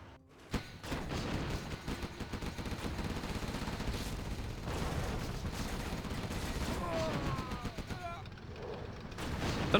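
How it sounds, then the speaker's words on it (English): A MiG air strike in a combat video game sets off a long, dense barrage of rapid gunfire and explosions, loud and sustained for nearly ten seconds and ending in a sharp final bang. "MiG's coming in, taking out more laser tanks"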